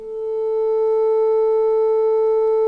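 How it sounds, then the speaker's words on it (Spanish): In a physics lab, a steady, pure electronic test tone holds at one fixed pitch, fading in at the start and staying constant and clear, with no other sounds. "También podemos medir una frecuencia fija"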